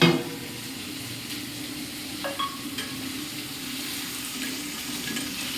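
Chopped tomatoes fry in hot oil in a pan, giving a steady close sizzle with occasional clinks and stirring scrapes.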